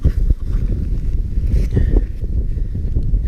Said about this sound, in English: Blooming windy.